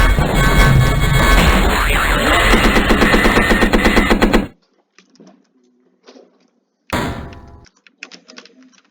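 Tank cannon and machine-gun fire from the AZ Tanks video game: dense, loud rapid bursts for several seconds, then a sudden cut to near silence with scattered faint clicks, and a brief second burst.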